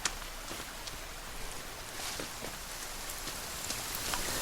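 Light rain pattering in a forest, a soft even hiss of drops with occasional closer splats, faint and steady with no voices.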